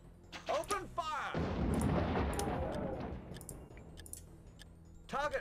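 Ranks of troops opening fire in Warhammer: Dark Omen, a fantasy battle game: a rumbling volley of shots and blasts swells, then fades into a crackling tail, with voices speaking before and after.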